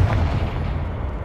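A Confringo spell blast in Hogwarts Legacy: a loud, booming burst that rumbles and fades over about a second, close and heavy, with no voices.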